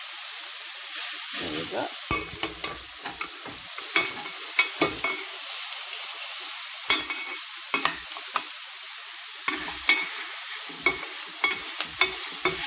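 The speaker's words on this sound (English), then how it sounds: "Sear them so the meat is tender inside." Spare ribs sear in a hot pan with a continuous sizzle and frequent sharp pops and spatters, close and fairly loud, with a brief spoken remark over it.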